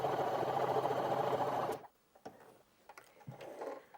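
A Janome J3-24 sewing machine runs a zigzag stitch in a steady, fast mechanical whir for under two seconds, then stops, leaving faint handling clicks and knocks.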